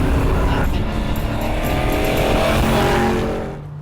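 A loud 1967 Camaro engine roars at highway speed while overheating and surging from fuel starvation, with heavy road and wind noise, a rough, strained drone that fades slightly at the end.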